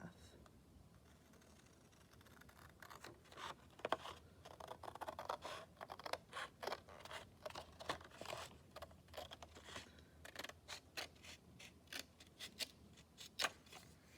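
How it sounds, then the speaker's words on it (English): Scissors snip through a folded paper circle, cutting it in half with a run of quiet, close crisp clicks and rustles of paper that grow busier toward the end. "you're going to cut that circle in half"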